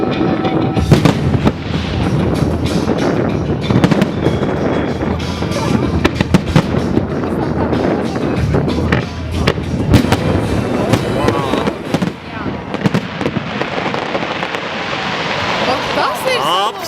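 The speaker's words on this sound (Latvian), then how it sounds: "kad ir šīs skaņas, tad tas ir salūts" Fireworks display at the 2010 Riga city festival, dense continuous bangs and crackles with frequent sharp pops, some near and loud, under chatting voices of onlookers and faint music.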